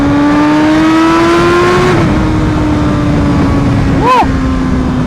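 A BMW HP4 motorcycle with an SC Project exhaust screams at high revs on the road, engine pitch climbing steadily and then dropping as the rider shifts gear, loud and close, under heavy wind roar.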